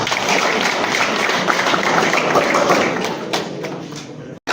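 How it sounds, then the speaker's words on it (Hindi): Audience at a drama festival in Rajouri, Jammu and Kashmir, clapping loudly in a hall, a dense sustained patter that holds steady before tapering and cutting off near the end. "एक बार फिर से जोरदार ताली"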